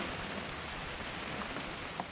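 Steady rain falls in the video game What Remains of Edith Finch, a dense, even hiss of drops on surfaces with a few faint individual patters, heard alone.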